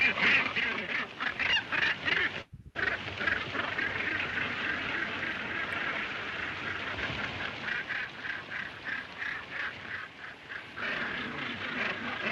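A crowd of waterfowl honks and quacks in a dense, continuous chorus in a scene from the 1952 film The Snows of Kilimanjaro, loud and near throughout apart from one brief dropout, with faint talking mixed in.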